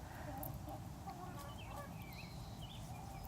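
Hens clucking over a dead baby bird while turkeys try to grab it, a busy close cluster of short clucks and squawks with background farmyard noise.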